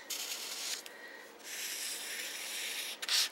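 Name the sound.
marker coloring paper bead strip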